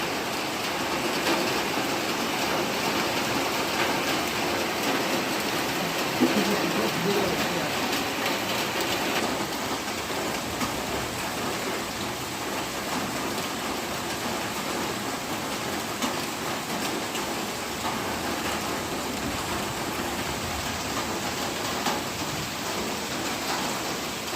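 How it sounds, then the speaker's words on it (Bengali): Heavy monsoon rain pours down steadily in a dense, constant hiss, unbroken and loud throughout. "কীরকম বৃষ্টি পড়ছে আর একদম বৃষ্টি নেমে চলে যাচ্ছে"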